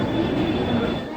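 Mumbai local train rumbles past with a dense, steady rolling roar of wheels and carriages, close and continuous, with faint wheel squeal in the mix.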